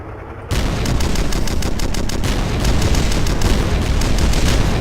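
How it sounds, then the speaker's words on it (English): Sustained rapid machine gun fire in the online shooter game Red Crucible Firestorm, a dense continuous rattle of shots starting abruptly after a brief quiet moment, loud and close, with no talk. "I feel like the machine gun does a lot more damage than it should."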